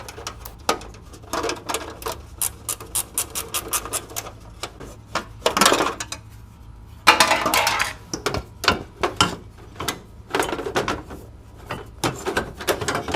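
Metal clatter and scraping while a heat shield comes off the rebuilt engine of a 2004 MINI Cooper S R53, with irregular close clanks and rattles, a few louder bursts between quieter handling.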